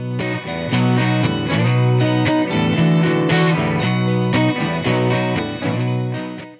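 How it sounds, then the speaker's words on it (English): Electric guitar chords through a GFI System Specular Reverb pedal ring out with a lush, washy reverb tail, sustained and layered, played loud with no voices. "that was the specular reverb"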